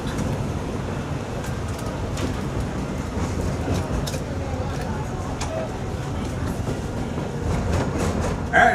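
Walt Disney World Railroad train rolling along the track toward Tomorrowland, a continuous rumbling clatter with faint rhythmic clicks that holds steady throughout.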